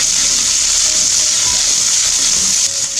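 Grated coconut fries in a pan for coconut rice, producing a steady, bright sizzling hiss that stays even throughout, with faint stirring underneath.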